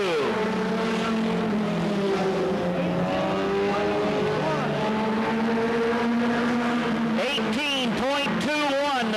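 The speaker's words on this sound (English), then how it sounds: "Dale Howdy Shell on lap number 2." A Goody's Dash race car lapping during 1988 qualifying for the Winston 100 at Anderson, S.C., its engine droning steadily with shifting pitch, then rising and falling sharply as it passes close by near the end.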